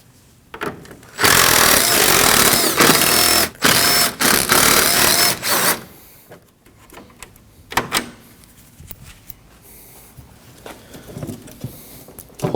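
Power tool spinning out 10mm bolts from the front bumper of a Ford Edge, loud close whirring bursts of a few seconds each, separated by short pauses and followed by quieter clicks and handling noises.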